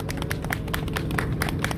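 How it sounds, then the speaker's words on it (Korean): Applause from a crowd at the Itaewon tragedy memorial site in Seoul: dense, steady clapping from many hands at moderate distance, continuous throughout with no voices above it. "박수로 보내주시면 감사하겠습니다"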